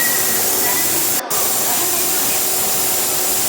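A pressure cooker full of squid biryani vents steam in a loud, continuous hiss that cuts out for a split second and then resumes just as strongly.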